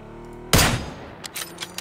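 A single sharp gunshot in the video game PUBG on the Miramar map, a loud close crack with a short decaying tail, followed by a few fainter distant pops.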